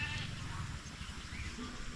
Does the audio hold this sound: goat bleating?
yes